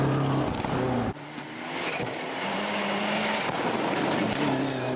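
A rally car engine with a lingering misfire at Rally Otago, its rough revving note rising and dropping with a brief cut near the start, heard from a moderate distance with no talk.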